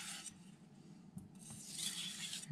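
Carbon steel knife drawn across Miyagoshi whetstones, giving short raspy scraping strokes, close and fairly quiet, in a few uneven passes.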